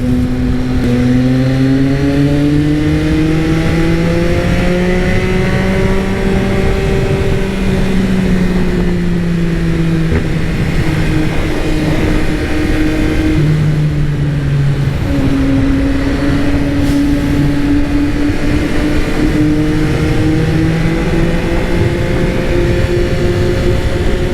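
A Yamaha XSR900 motorcycle engine hums continuously and loudly, its pitch drifting up and down through gear changes up to third or fourth as it accelerates, with a rough, buzzing tone and no talking.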